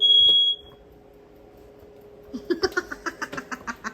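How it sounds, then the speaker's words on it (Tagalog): A kitchen smoke alarm, set off by slight burning while spaghetti cooks, gives one loud, shrill beep. After a short quiet pause, rapid giggling laughter follows. "It's a fire alarm."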